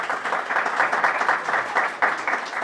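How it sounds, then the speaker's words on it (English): An audience at an art exhibition conversation applauds, with dense, even clapping that holds steady at moderate volume for a few seconds. "I think she deserves a round of applause."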